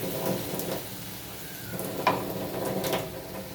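Ground spice paste frying in a pan, a soft continuous sizzle with scraping stirring strokes and an occasional light clink of a utensil against the pan.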